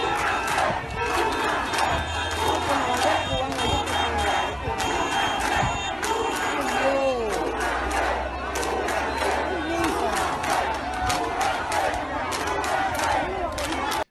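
Protest crowd shouting and chanting along the Malecon in Havana, Cuba, a dense continuous roar of many voices with rising cries, loud and sustained throughout.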